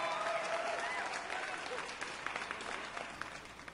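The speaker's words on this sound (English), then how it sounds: "A round of applause for Parmen Shuri." Audience applause at an episode of the Emerging Voices talent show, steady dense clapping throughout with a faint voice and tonal music underneath, tapering slightly toward the end.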